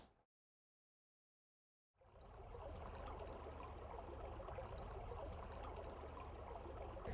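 Shallow riffle on a trout stream, steady broadband rush of flowing water that starts after a brief silence and continues loud and unbroken.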